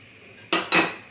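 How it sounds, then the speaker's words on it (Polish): A cocoa, flour and sugar mixture is stirred in a pot, giving two quick, close metallic clinks and scrapes of a utensil against the pot, with no talking. "Dokładnie mieszamy"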